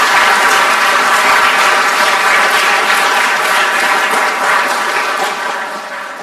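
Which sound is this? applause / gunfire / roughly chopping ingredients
applause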